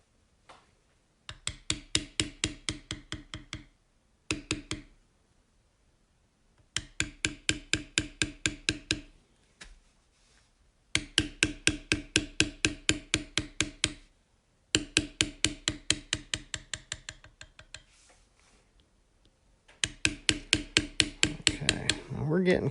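Leather is beveled with a beveling tool and mallet, rapid rhythmic tapping in repeated bursts of a dozen or so sharp strikes, with short pauses between runs, close and distinct.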